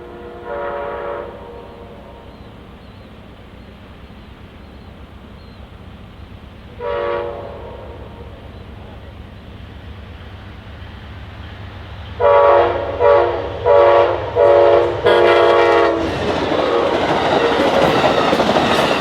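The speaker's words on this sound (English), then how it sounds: "we found the southbound Amtrak train number 59 being pulled by locomotive 59" A train horn sounds in short blasts, then a southbound Amtrak passenger train roars and clatters nearby, growing louder toward the end.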